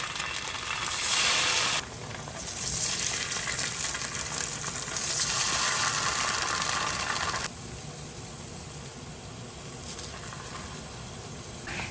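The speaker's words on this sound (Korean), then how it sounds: "달군 팬에 물기 뺀 두부 썬 것을 아래 위 노릇노릇하게 구워주고요" Sliced, drained tofu sears in a heated pan with a loud, hissing sizzle that rises and drops in bursts, then settles into a steadier, quieter frying with no talking.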